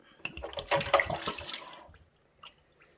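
Water gushes out of a bottle into a kitchen sink for about a second and a half, a loud splashing pour that trails off, followed by a couple of faint clinks.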